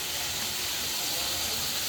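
Green peas frying in a hot pan with beans and onion, a steady close hiss of sizzling oil running evenly throughout without pause.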